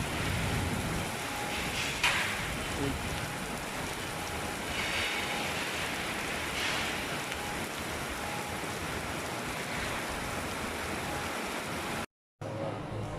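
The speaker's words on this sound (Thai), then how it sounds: "ฝนตกหนักมากทั้งแรง ทั้งฝนฟ้าขนองนะครับ" Heavy afternoon rain pouring in Singapore during a thunderstorm, a dense, steady hiss of downpour close by that fills the whole stretch, with no distinct thunder cracks standing out.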